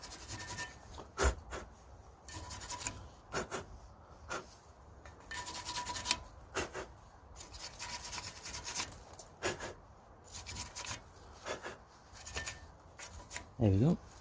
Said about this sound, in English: we're gonna clean the area with wire brush.